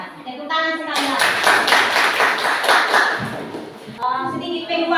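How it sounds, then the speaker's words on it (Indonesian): A class applauds a student group in a lesson on the human excretory system. A burst of many hands clapping, close and lively, lasts about three seconds, with a voice speaking briefly before and after it. "Tepuk tangan sekali lagi"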